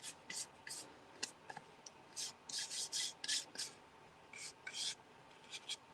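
Gold leaf foil rubbed by hand onto paper: soft, close scratchy rasping strokes in short irregular bursts, fairly faint, with brief pauses between rubs.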